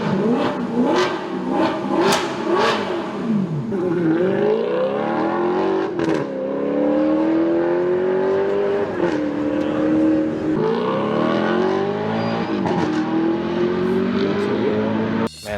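An Alfa Romeo engine revs repeatedly, climbing and falling in pitch through several strong pulls as the car accelerates. It sounds loud and close with a rough, throaty tone, and a voice speaks faintly underneath.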